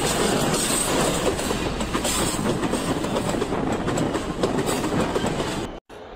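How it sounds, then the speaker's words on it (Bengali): The Benapole Express passenger train runs fast, a loud continuous roar with rhythmic clickety-clack of wheels over rail joints, heard up close throughout before a brief dropout at the end. "বেনারপুল এক্সপ্রেস এর গতি দেখুন কি দ্রুততার সাথে ট্রেনটি চলে।"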